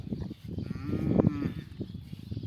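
A single low moo from an injured, burned cow swells up in the middle, surrounded by muffled background chatter and noise.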